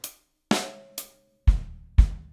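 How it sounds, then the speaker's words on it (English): Five sharp, separate strikes ring out with short decays, the last two deeper and fuller, like hi-hat hits followed by bass drum beats. "And so the hi-hat, left hand, sounds like this."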